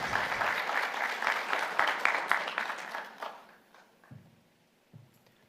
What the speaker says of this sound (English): Can we give them a round of applause again?